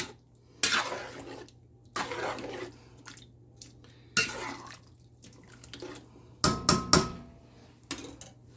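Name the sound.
scraping the bottom of a pot of rice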